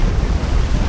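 Strong wind buffets the microphone on the water during a sheepshead fishing trip, a loud, dense, continuous low roar in a very brief burst, with no voices.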